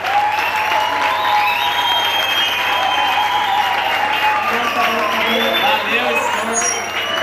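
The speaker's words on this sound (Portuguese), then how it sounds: "Palmas para a equipe preta." A crowd at a youth camp applauds a team during the awards results, sustained clapping mixed with cheers and scattered whoops and shouts, with voices talking over it throughout.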